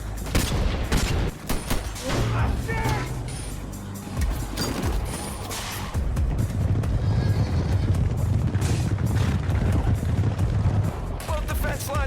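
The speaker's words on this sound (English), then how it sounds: "Machine guns 1 and 3 are out of ammo." Machine gun fire rattles through a battle scene in a Fallout fan animation, loud rapid bursts with sharp cracks and crashes over a rumbling, chaotic background.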